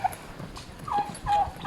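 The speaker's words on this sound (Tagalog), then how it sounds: "andito may mga pabo, may mga kalapati dun sa kabila" Turkeys gobble at a farm resort in San Joaquin, Iloilo, in a short burst of throaty, warbling calls at moderate distance over faint outdoor background noise.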